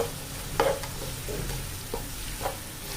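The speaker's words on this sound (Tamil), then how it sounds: "நல்லா வதக்கிடுங்க." Chopped onions sautéing in oil in a pan for an egg side dish, a low steady sizzle with a few brief stirring scrapes and clinks, close and alone.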